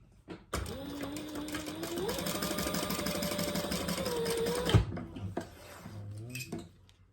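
A sewing machine stitches across a purse card slot in a continuous whirring burst of rapid needle strokes that rises in pitch midway, then stops abruptly, followed by a few soft handling clunks.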